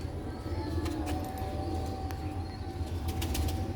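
Sialkoti black-faced Sheikh pigeons make soft cooing calls and brief bursts of wing flapping close by, over a steady low background rumble.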